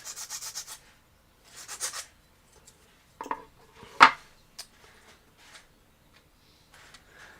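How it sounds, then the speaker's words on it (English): A hand file rasps across a plastic kitbash model part in short, quiet strokes, followed by a few light taps and clicks of handling. "And now a little bit of filing."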